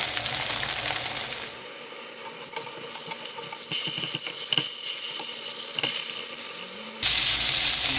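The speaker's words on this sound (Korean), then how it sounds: "이렇게 해가 앞뒤로 노랑노랑하게 구워줍니다" Oil sizzles steadily in a hot pan, a continuous crackling hiss with occasional light clicks and scrapes throughout.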